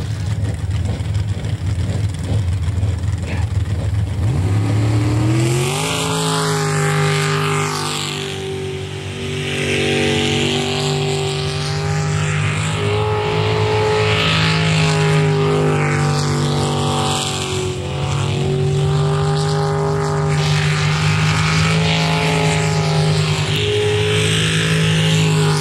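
Powerful racing boat engines at a boat race in Port Angeles roar steadily, rising in pitch as they rev up after a few seconds and holding a loud, continuous drone throughout.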